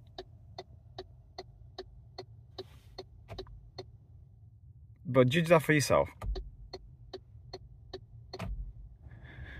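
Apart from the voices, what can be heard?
MG4 car turn indicators clicking loudly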